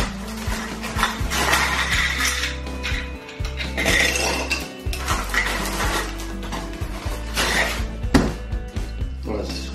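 Ice clinks and rattles into a glass or shaker for a cinnamon cranberry vodka mule, a run of close hard knocks and chinks, with a person talking over the clatter.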